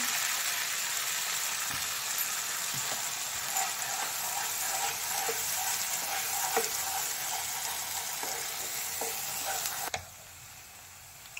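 An onion, ginger, garlic, tomato and cashew paste fries in a pan for paneer butter masala, making a loud, steady hiss and sizzle with occasional soft spoon scrapes, then abruptly dropping to a quieter simmer near the end.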